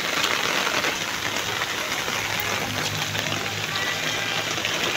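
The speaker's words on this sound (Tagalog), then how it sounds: "Dito dumadaos-dos yung tubig" Heavy typhoon rain pours down as runoff water streams along a channel, making a dense, continuous hiss with a low steady rush underneath, close and unbroken.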